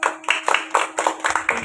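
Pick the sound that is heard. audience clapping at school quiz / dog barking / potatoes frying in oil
audience clapping at school quiz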